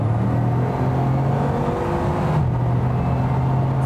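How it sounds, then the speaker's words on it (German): A Bugatti Chiron Sport with 1,504 horsepower accelerating hard from inside the car, giving a loud, steady engine roar and whir that holds constant with a slight shift partway through. "das ist jetzt mein letztes Mal Gas geben mit dem Fahrzeug"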